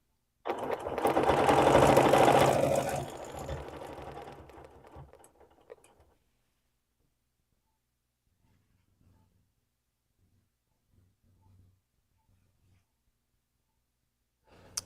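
A sewing machine doing ruler quilting runs in a loud, close burst of whirring stitches for about four seconds, then fades to near silence with a few faint clicks.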